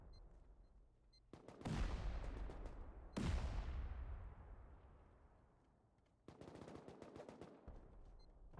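Rapid bursts of gunfire followed by two heavy C4 blasts that boom and decay slowly, then another volley of shots, in a Rust base raid during a 9v9 tournament.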